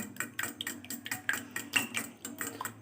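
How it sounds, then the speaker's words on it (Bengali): Cake batter with oil for a chocolate fruit cake being whisked in a bowl produces quiet, rhythmic clinks and scrapes repeating several times a second, close by with no talking. "এটা দিয়ে আমি আবার ফেটাতে শুরু করলাম"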